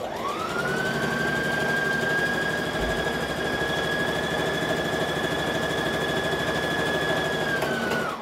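A sewing machine bastes along an overlocked fabric edge while sewing a Vogue 9345 pattern, its motor spinning up into a steady, continuous whine that holds for several seconds before winding down, close and alone.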